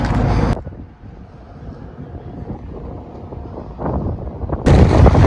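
Strong wind on a hilltop near Montpellier, France roars and buffets the microphone in loud gusts at the start and end, with a quieter rushing stretch between.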